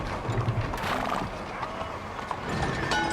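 Horse in the Red Dead Redemption 2 video game trampling people, heard as a short burst of hoof clatter and a neigh over busy game ambience, with a voice faintly underneath.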